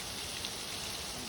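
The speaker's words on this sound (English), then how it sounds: "beginning raining." Steady rain falling on an outdoor surface, a dense continuous hiss with no distinct drops or gaps, moderately loud and close.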